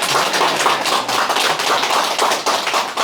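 Steady, dense clapping from a seated audience in a company lecture hall, sustained at even loudness for the full span with no voices over it.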